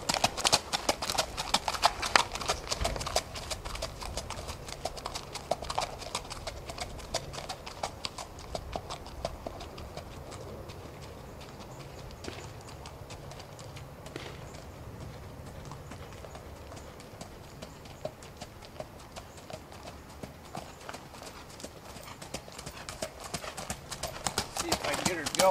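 A horse's hooves clip-clop rapidly on the ground at a run, then slow to a steadier walking beat, moderately close, with a voice talking intermittently over them.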